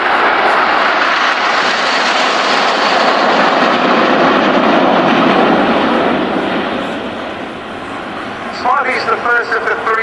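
Red Arrows jets flying in formation at the Yeovilton Air Day air show, a loud sustained engine roar that swells and then fades slightly as the aircraft pass, with a commentator speaking over it.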